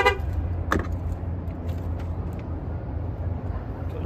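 A certified used car bought in the US is out on a test drive, with a steady low road and engine rumble that holds throughout and a brief higher chirp early on.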